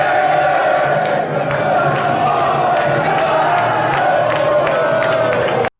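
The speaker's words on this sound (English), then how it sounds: "the players are now starting to walk on the pitch, hence the booing" A huge, dense crowd of Scotland and England football fans roars and boos at the Euro 2020 match in London as players walk onto the pitch, a loud sustained wall of voices.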